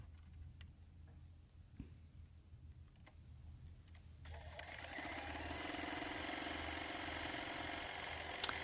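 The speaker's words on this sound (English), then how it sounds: "returning back to the sewing machine and sewing along both sides, just inside that sashing strip" A sewing machine stitches along a quilt sashing strip, starting quietly with faint ticks, then running in a steady, close mechanical whir for the last few seconds.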